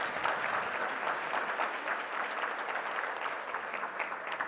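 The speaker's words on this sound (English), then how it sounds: "Let's give another round of applause." Sustained applause from a banquet crowd at a school district retirement dinner, dense and even clapping that holds steady throughout at moderate volume, with no talk over it.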